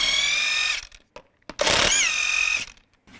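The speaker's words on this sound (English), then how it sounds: "Take the lug nuts off." Lug nuts spun off a 2002-2009 Chevy Trailblazer wheel with a 19mm socket, giving two bursts of whirring, whining tool noise separated by short clicks and pauses, close and fairly loud with no talk.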